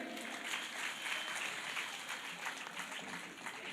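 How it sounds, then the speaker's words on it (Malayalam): A school literary fest audience applauds with dense, steady clapping from a room full of people. The applause stays fairly far off and soft and keeps going without a break. "അതിന് നമുക്ക് കയ്യടി കൊടുത്തൂടെ?"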